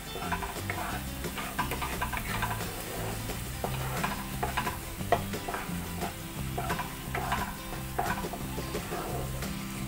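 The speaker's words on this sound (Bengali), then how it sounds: "জিরে গুঁড়ো দেওয়ার পর আমি আরও দু মিনিট নাড়াচাড়া করে মশলা কষিয়ে নেব।" Spices with cumin powder being stirred and fried in a pan for a Bengali tel koi fish curry, with a steady low sizzle and repeated scraping stir strokes throughout.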